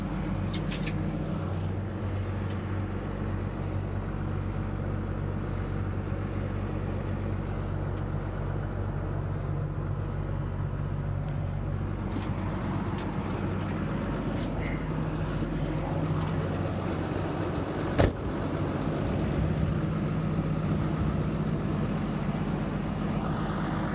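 Solid work trucks idling with engines running, a steady low rumble held throughout with a brief sharp knock partway through and no talk.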